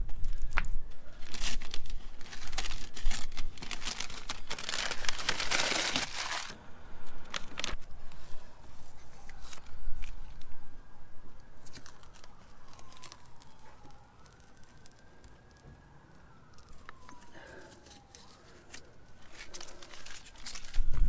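Masking film is peeled and crumpled off freshly spray-painted parts of an R34, giving crinkling, tearing rustles in bursts up close, with a faint siren wailing in the distance partway through.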